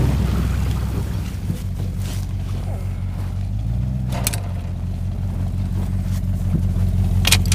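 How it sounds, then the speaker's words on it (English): A Polaris TX snowmobile rumbles steadily up to a shop, its engine note loud and close, rising briefly in a rev midway, with wind noise and short scraping bursts over the low drone. "pulling the snowmobile up to the shop so we can do a little tinkering on it"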